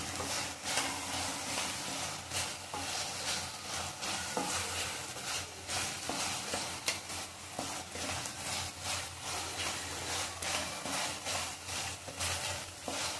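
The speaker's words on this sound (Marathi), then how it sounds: "चांगला परतून घ्यायचा टोमॅटो आणि कांदा" Tomato and onion sauté with salt and red chili for sarson ka saag, a continuous sizzle under rhythmic scraping stirs of a spoon against the pan, close and steady, with no speech.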